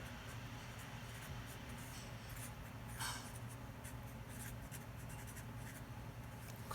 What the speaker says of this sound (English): so let's write out the first few terms here.